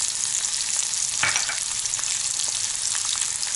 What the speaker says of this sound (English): Now I'll add garlic into this. Little bit of onion. We'll saute all the vegetables.